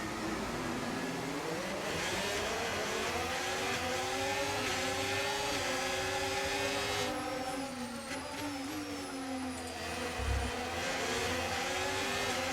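Race car in F1 25 launching from the start line at the Australian round: a loud, sustained engine roar climbing through rising gear pitches, with several cars revving close together and no voices.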